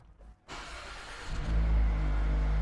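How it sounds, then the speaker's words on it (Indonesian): A 2024 Mazda 3 hatchback with a 2.0-litre naturally aspirated engine starts up: a short crank, then the engine catches and settles into a loud, deep idle rumble nearby, with no talking. "Kita coba engine start mobilnya."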